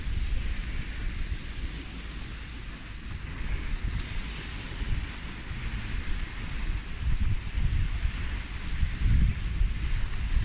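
Wind and surf on a beach, with a constant rushing wind and low rumbling waves washing in, steady and fairly loud with a few swells in strength.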